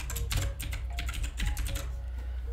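Rapid typing on a computer keyboard while entering text into a Word document text box, a steady run of close, crisp key clicks with no talking.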